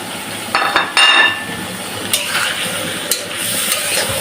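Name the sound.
green jackfruit being sautéed with spices in a pan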